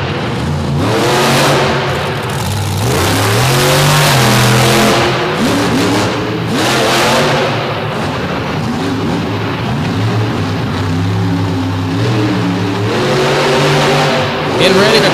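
A modified truck engine revs hard during a show run at DuQuoin, Illinois, its pitch climbing and dropping through repeated accelerations, loud and close, with a commentator talking over it.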